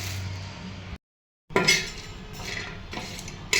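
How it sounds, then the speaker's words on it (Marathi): Dry coconut pieces roasting without oil in a pan for a Kolhapur-style chutney, with quiet scraping and light metallic clinks of a spatula stirring, broken by a brief silent gap. "आता कणी सुकं खोबरं भाजायला घालणार आहे हे पण मी कोरडंच भाजून घेणार आहे"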